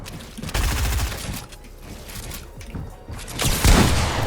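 Gunfire in the video game Fortnite during a Winter Royale match, rapid bursts of shots across the clip, loud and up close, with a heavier blast near the end.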